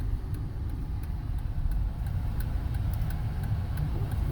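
Road traffic passes near the entrance to Blackwell Forest Preserve in Warrenville, Illinois: a continuous low engine and tire rumble from cars going by, fairly close and steady, with small rises as vehicles pass.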